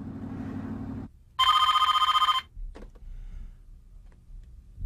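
A telephone rings in a short burst of loud electronic trills on an outgoing call, after a low hum, followed by faint clicks and quiet room noise.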